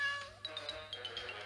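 Freddy Cat in Plants vs. Zombies Heroes, a short cat meow followed by a quick series of small, high chirping mews, close and fairly quiet, with no speech.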